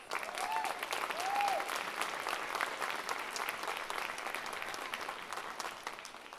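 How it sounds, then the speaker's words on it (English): A commencement audience applauds with steady, dense clapping that swells briefly and then tapers off, a couple of voices calling out in the crowd. "Round of applause, please."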